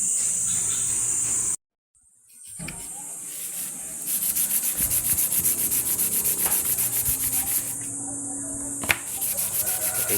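Steady rhythmic rubbing of a blade being sharpened on sandpaper during servicing of a Siruba four-thread overlock sewing machine, close and continuous after a brief pause, with light hiss.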